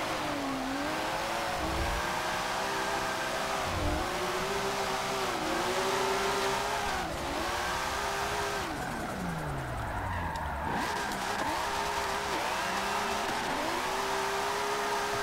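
In Forza Motorsport 7, a car drifts and skids, its engine droning and swooping in pitch while tires squeal, loud and continuous throughout with no talk over it.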